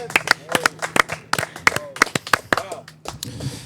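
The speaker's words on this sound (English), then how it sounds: "clap it up for Joby's hats." Sharp, irregular hand claps from a few people, scattered over a few seconds, with voices chattering and calling out underneath.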